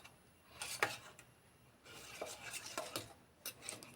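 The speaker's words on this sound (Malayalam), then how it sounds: "നന്നായിട്ട് മിക്സ് ചെയ്ത് കൊടുക്കാം കേട്ടോ." A spoon scrapes and clinks against a bowl while a chocolate bread cake mixture is stirred, producing faint, intermittent bursts of scraping with short quiet gaps between strokes.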